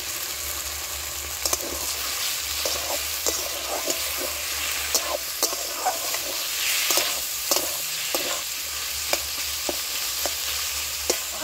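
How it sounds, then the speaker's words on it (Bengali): Lemon-marinated chicken frying with ginger-garlic paste and raw tomato in a pan for a kathi roll filling, a constant bright sizzle broken by frequent scraping stirs. "চিকেনটা লেবুর রস দিয়ে ম্যারিনেট করে রেখেছিলাম, সেটা এবার দিয়ে দেবো।"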